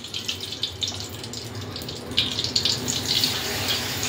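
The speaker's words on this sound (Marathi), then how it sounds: "कढईमध्ये टाकूया तेल" Cooking oil running into a kadhai in a home kitchen, a steady pouring trickle with faint splashy flutter lasting a few seconds, close and fairly quiet.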